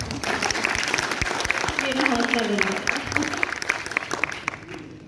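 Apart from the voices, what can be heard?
audience applause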